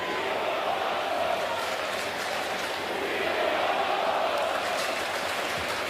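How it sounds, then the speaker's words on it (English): A large baseball crowd at Citi Field chants in a rising and falling rhythmic roar, heard from a distance as a steady wash of massed voices. "Listen to the crowd and what they were chanting at Citi Field"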